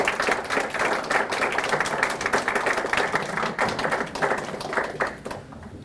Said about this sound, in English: stand for a round of applause for putting together this terrific event